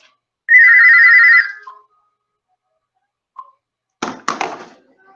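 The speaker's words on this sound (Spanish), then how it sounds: "Ese teléfono fijo." A landline telephone gives one loud electronic ring burst with a short decaying tail, followed after a pause by a few soft knocks and clunks, heard alone with no talking.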